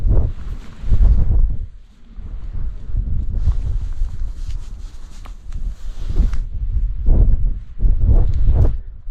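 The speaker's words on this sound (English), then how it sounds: "Although it's quite windy" Strong gusts of wind buffet the microphone in heavy, rumbling surges that rise and ease repeatedly at a campsite in the Lake District, with no voices.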